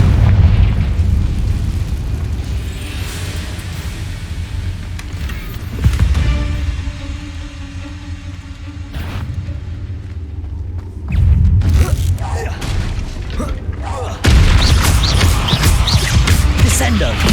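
Confringo fire spells in Hogwarts Legacy burst into booming explosions, with three heavy blasts over a constant rumbling game soundscape.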